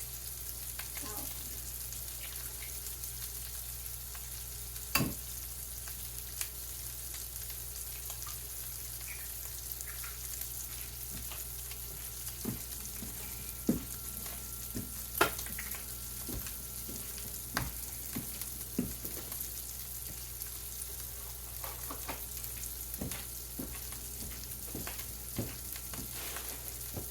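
Two eggs frying in a pan while being stirred and spread across the bottom, a steady soft sizzle with scattered clicks of a utensil against the pan, no talking.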